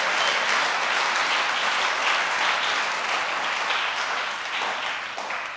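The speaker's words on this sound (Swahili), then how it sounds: "pigia Yesu makofi amani." A church congregation at a revival service applauds for Jesus, dense sustained clapping from many hands that stays loud and steady before easing slightly at the end.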